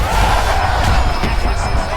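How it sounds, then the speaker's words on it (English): A packed UFC 299 arena crowd roars and cheers during a fight, a dense, steady wall of noise with a shout or two poking through. "This crowd is going sick after what they saw in that previous round."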